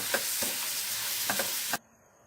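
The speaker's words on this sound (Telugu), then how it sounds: "మిక్స్ చేసేసుకుందాం ఇలా ఒక నిమిషం మిక్స్ చేసుకున్న తర్వాత" A spoon stirs a thick mango and coconut chutney mixture in a pan on the stove, making several scraping strokes over a low steady sizzle before it cuts off abruptly.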